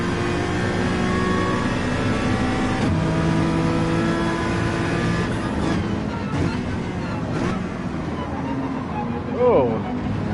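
A race car engine in Gran Turismo 7 at Willow Springs holds a steady high whine while accelerating, shifting pitch with gear changes, loud and continuous, with other cars and game sounds in the mix.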